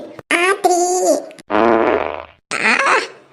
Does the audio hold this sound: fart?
yes